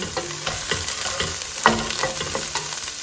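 Chopped garlic frying in a pan, a continuous crackling sizzle with repeated stirring scrapes and one sharper clatter midway, close and moderately loud.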